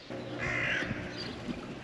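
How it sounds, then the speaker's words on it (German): Seagulls call by the sea near a harbour in Holland, a drawn-out harsh cry close by over wind and faint water noise. "Viele Möwen, ein Zeichen, dass wir hier am Meer sind."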